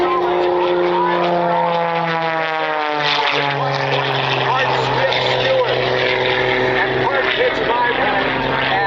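A propeller aerobatic airplane performs at the 2024 Columbus Air Show, its engine whining and shifting pitch through maneuvers, loud, with an announcer's voice over the crowd.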